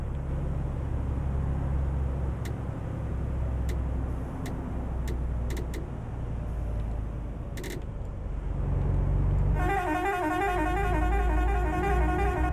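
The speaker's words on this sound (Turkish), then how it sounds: "Böyle peş peşe basarsanız kornanız değişiyor. 3 tane korna var." Mercedes-Benz Travego 2023 Black-Edition bus horn in Euro Truck Simulator 2, a loud tonal blast over the steady drone of the bus engine and road noise, after several brief clicks.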